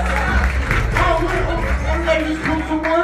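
A studio audience claps and cheers steadily as a radio host, Cipher Sounds, walks onto the stage of a live comedy show, the crowd noise dense and continuous with whoops rising through it.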